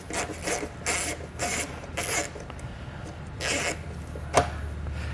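A ratchet with a 7mm socket works a bolt loose on a 2020 Chevrolet during a trailer hitch installation, giving a series of close, repeated rasping clicks in short bursts with no talking.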